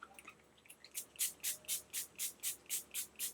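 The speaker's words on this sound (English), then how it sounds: "I grab these like leave-in conditioner type products and I spray on the ends" Leave-in conditioner sprayed onto the ends of hair: a quick series of about ten evenly spaced, close-up spritzes from a pump spray bottle, heard on their own.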